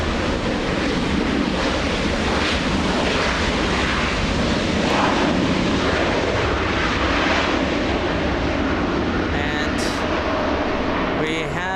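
Airliners arriving and departing at Los Angeles International Airport produce a loud, continuous jet roar that swells and rumbles throughout, with faint voices underneath.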